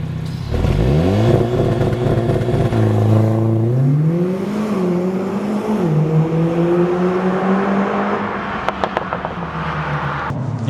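A Mercedes-Benz CLA 45 AMG with a turbocharged 2-liter, 382-horsepower engine accelerates hard, its note climbing through several gears with brief dips at each shift before easing off, heard loud and close with no talking.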